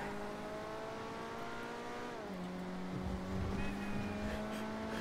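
A car engine in the video game GTA V Online drones at a steady pitch, drops as the gear shifts midway, then pulls on with louder revving and road noise.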